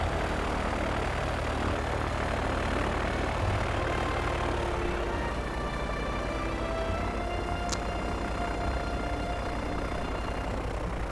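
A propeller airplane in Transport Fever 2 drones steadily while flying across the channel, a loud continuous engine hum with faint shifting tones and no talk.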